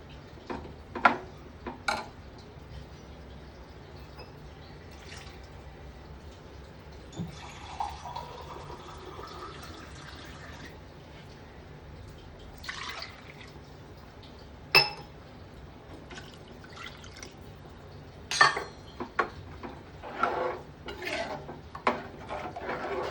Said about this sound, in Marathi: त्यामध्ये पाणी घ्या, जसं तुम्हाला रस्सा लागेल त्याप्रमाणे